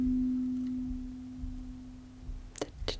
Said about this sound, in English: let's try a little bit of sound healing. Just gonna play a note here.